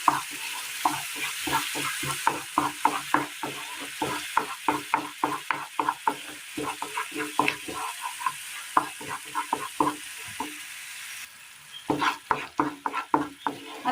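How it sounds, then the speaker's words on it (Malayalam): A spoon scrapes rhythmically against a pan, stirring ground tomato into a raw banana curry, with quick repeated strokes over a soft frying hiss, close and clear, pausing briefly before resuming. "ഇതിലേക്ക് നമുക്ക് ഈ അരച്ചു കൊണ്ടുവന്ന തക്കാളി കൂടി ചേർത്ത് കൊടുക്കാം. നന്നായി ഒന്ന് മിക്സ് ചെയ്തെടുക്കാം."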